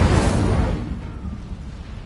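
A burst of fire from the Incendio spell in the Hogwarts Legacy video game: a loud, close boom with a rumbling low end that fades over about two seconds, heard alone.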